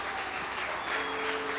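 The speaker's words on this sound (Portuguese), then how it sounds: "Você pode aplaudir ao Senhor." A church congregation claps together in a dense, even wash of applause that holds at a steady level for a couple of seconds.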